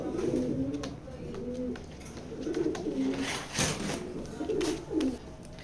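Racing pigeons cooing in a loft, repeated soft low coos close by with faint background noise and a few light rustles.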